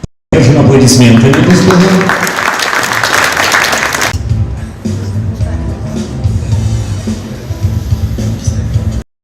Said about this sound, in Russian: Держим аплодисменты.